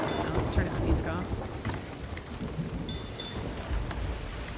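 A thunderstorm in a video game plays as a steady wash of heavy rain with low rumbling thunder, continuous and fairly loud throughout, with no talk over it.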